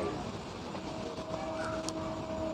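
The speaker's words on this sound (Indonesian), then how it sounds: "Oh kereta api." A train passes close by with a steady rumbling roll of rail cars, faint clickety-clack and a thin high whine of wheels on track, loud and continuous throughout.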